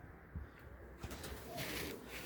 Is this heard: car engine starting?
no